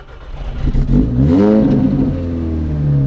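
An 800 hp VW Golf 5 GTI with a full exhaust line revving hard, a loud close engine note climbing in pitch to a peak, then settling into a steady high idle drone, with no voices.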